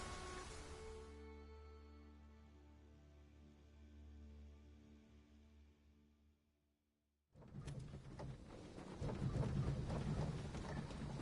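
A heavy downpour with deep rolling thunder in the video game Dragon's Dogma 2, fading to near silence before a fresh burst of loud rain and rumbling returns.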